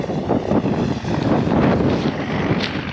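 Strong wind buffets the microphone continuously in an open field during autumn grain sowing, a loud roaring rumble with no other clear sounds.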